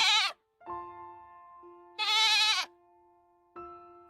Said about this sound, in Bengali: ছাগলটা ঘরের ভেতরে অনবরত ডেকে চলেছে।